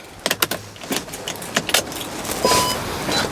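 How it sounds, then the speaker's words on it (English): A VW Transporter T6 van being started with a key: close keys jangling and a few sharp clicks, followed by a steady rising roar as the engine turns over and keeps running. "We'll go start the car off."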